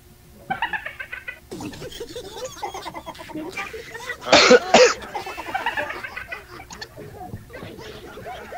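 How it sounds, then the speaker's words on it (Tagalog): A man coughs hard in a short loud burst during a live radio broadcast, with lighter throat noises and chatter around it. "Saglit lang, ubo ako eh."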